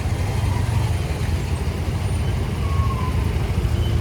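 Steady road traffic on the Khopoli to Pune ride, a dense low engine rumble from trucks and buses that holds level throughout, with a brief hiss like an air brake partway through.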